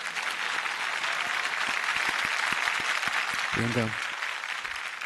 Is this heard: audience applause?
yes